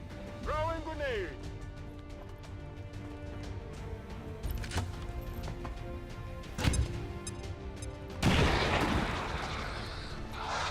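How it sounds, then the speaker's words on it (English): A grenade goes off in the video game XCOM 2: a sudden loud blast near the end follows smaller impact bangs, with game sounds and voices in the background. "Throwing grenade."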